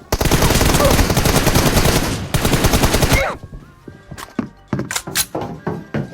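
Loud gunfire in the mobile battle royale game PUBG Mobile: about three seconds of dense automatic bursts, followed by scattered single shots and thuds.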